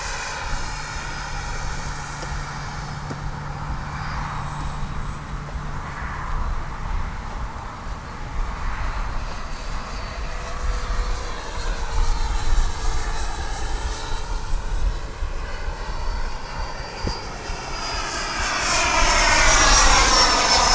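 A Freewing F-86 radio-controlled jet flies past at speed, its ducted-fan engine making a continuous roaring whine that swells and sweeps in pitch as it nears, heard alone at moderate distance.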